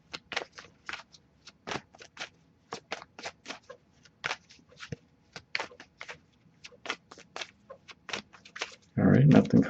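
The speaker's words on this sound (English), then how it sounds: "but I'll shuffle a little longer." Tarot cards riffle and snap in a quick, irregular series of crisp flicks, close up, ending with a burst of louder rustling.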